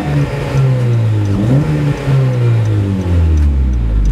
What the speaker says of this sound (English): I'm gonna rev bomb it.